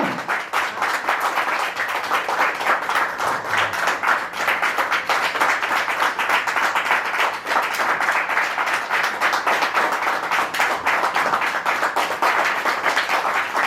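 An audience claps at an Indian company promotion event for Jhala Group of Industries, producing sustained, dense, even applause from many hands that continues for about fourteen seconds without letting up, with only faint voices underneath.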